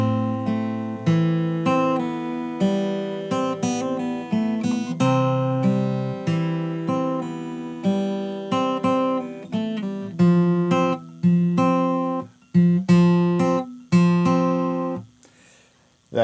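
Fingerstyle acoustic guitar plays a song, a steady bouncy stream of plucked notes over bass, moderately loud and close with no speech.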